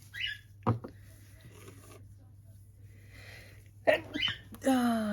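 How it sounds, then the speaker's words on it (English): A person sneezes up close in a quiet room, with a sharp burst early on and a second, stronger sneeze near the end, followed by a brief vocal sound. "here come the sneezes"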